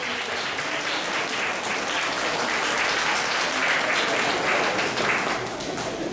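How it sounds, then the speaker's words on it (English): Children and staff clapping for parents at a kindergarten move-up ceremony, a steady, dense round of applause from a large crowd lasting several seconds. "So boys and girls, give your parents a hand clap, and staff, give our parents a hand."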